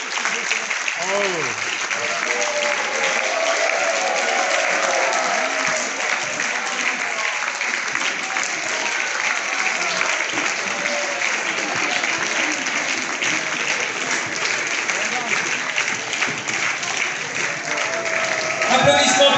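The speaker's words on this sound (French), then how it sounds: "Applaudissements pour Giancarlo Pedoté." Crowd applause greets skipper Giancarlo Pedoté of Prysmian arriving at the Vendée Globe finish, steady sustained clapping throughout with a commentator talking over it.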